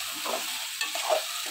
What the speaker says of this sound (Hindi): लहसुन अदरक का पेस्ट थोड़ी देर के लिए भूनेंगे चिकन के साथ